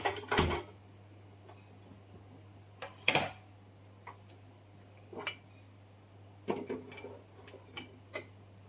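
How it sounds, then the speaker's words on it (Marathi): Cooking ingredients are mixed together in a bowl, giving sparse, sharp clinks and taps of a utensil against the vessel, spaced irregularly over a low steady hum. "इथे मी घेते हे सर्व साहित्य एकजीव करून घेते"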